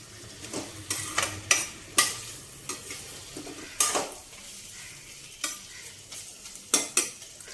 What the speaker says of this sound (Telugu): ఈ చికెన్ చక్కగా వేగాలండి.